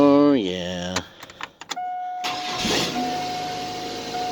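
A 2002 Chevy S10 pickup engine cranks and catches after several sharp clicks, settling into a steady idle; a door chime tone rings throughout and a person talks at the start.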